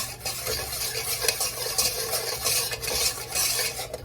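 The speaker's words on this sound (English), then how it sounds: "Make sure you really mix it up, because if you don't mix it up good, eggs are gonna cook in your macaroni noodles" Cracked eggs being stirred into macaroni noodles for homemade mac and cheese, a steady close scraping and clinking of utensil against bowl with continuous wet churning, no talking.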